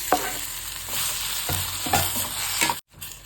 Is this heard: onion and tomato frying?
yes